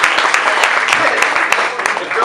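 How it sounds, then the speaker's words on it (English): Audience applause at an annual foundation awards ceremony, a steady wash of clapping from a crowd that runs through the whole moment, with a voice partly over it. "Everybody give her a round of applause."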